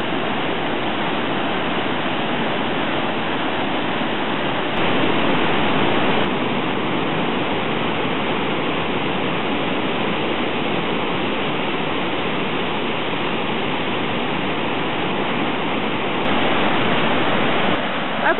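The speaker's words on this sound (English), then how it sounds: "The way the water goes up in this crack and spits out." Rushing water at Tahquamenon Falls roars loud and unbroken, a dense steady wash of white noise close by, with no voices.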